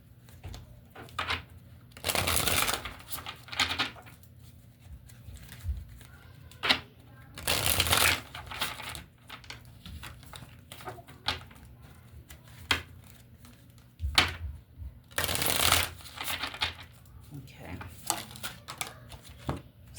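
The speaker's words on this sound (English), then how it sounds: "I'm just going to pull from a random deck." A deck of oracle cards being shuffled, repeated riffling bursts at irregular intervals, close and fairly quiet, with soft handling noises between them.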